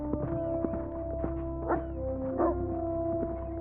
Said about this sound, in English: He has a pair of dogs with him. Great Danes.